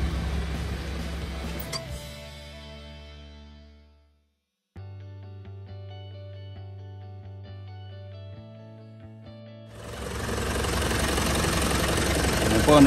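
A 2008 Isuzu Giga 12-wheeler wing van's diesel engine idling, a steady low rumble that cuts out and restarts partway through, with a person talking nearby.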